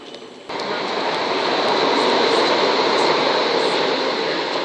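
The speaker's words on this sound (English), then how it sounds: "Okay, there was a passing 445." A Class 445 electric train rushes past at Brockley on the Brighton main line, a sudden loud swell of rolling wheel and track roar that stays close and steady.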